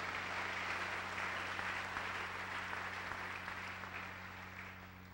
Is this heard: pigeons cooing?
no